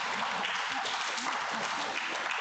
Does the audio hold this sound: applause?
yes